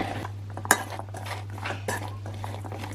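A spoon stirs homemade salsa in a bowl, giving soft scraping and wet mixing sounds with one sharp clink of metal against the bowl, close and fairly quiet over a steady low hum.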